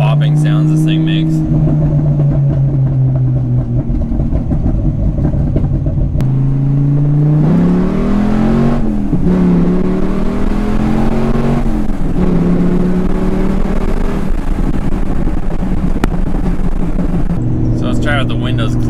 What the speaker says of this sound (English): I don't know if you guys can hear like the popping sounds this thing makes.